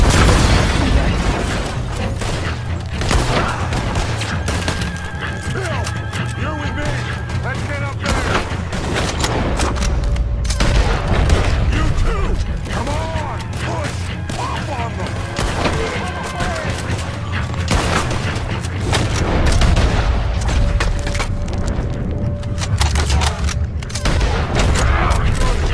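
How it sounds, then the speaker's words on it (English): Explosions and gunfire crackle in Red Dead Redemption 2, a dense, continuous fusillade of booms and bursts running the whole time under a voice talking over the action. "Ooh, explosives."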